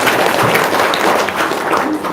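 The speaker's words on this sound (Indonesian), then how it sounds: "Tepuk tangan dong." A gathered audience claps on request, a short, loud, dense burst of many hands applauding together throughout.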